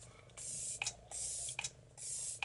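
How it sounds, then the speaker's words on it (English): Makeup setting spray misted onto a face in three separate bursts, each a soft hiss lasting about half a second, close and fairly quiet, with short rustles between them. "I'm gonna use a little bit of setting spray just to get rid of the powdery finish."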